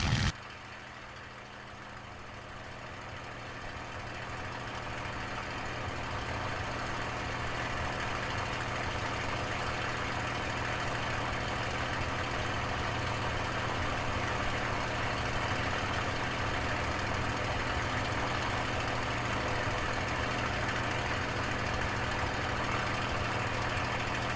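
A P-51 Mustang's piston aircraft engine runs steady and loud as power is brought up, the broad droning roar swelling slightly in the first seconds and then holding constant without talk.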